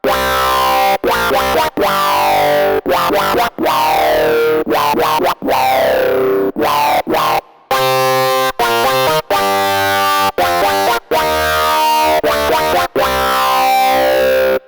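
A bright, buzzy synthesizer lead on an Arturia AstroLab plays a series of choppy phrases with sweeping, distorted tones, loud and up front, separated by brief gaps.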